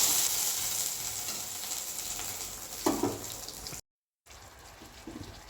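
Fish sizzling in a pan while being fried for a Bengali curry with potato and pointed gourd, a steady hiss with a few stirring knocks and a brief cut of silence near the end.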